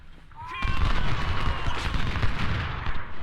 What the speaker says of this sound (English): That is some artillery.